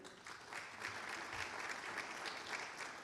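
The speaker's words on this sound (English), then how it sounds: "Round of applause, please." An audience claps steadily for a few seconds at a hall of fame induction ceremony, a dense patter of applause filling a room, with no voices over it.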